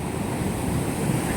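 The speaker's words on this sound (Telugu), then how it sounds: "ఈ కెరటాలు అయితే చాలా ఘోరం ఫ్రెండ్స్" Ocean waves at Anjuna Beach in Goa roll in as a continuous low rumbling wash with wind noise, steady and fairly close, no voices.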